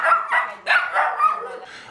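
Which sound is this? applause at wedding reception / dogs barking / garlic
dogs barking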